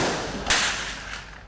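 A single loud gunshot from a shootout on Avenida Brasil in Rio de Janeiro cracks and rings out over a noisy street, followed by a fainter second shot.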